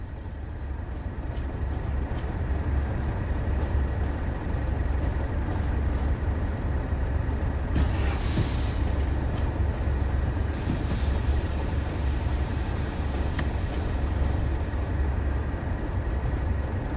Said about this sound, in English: apply a small amount of brake force to achieve a comfortable stop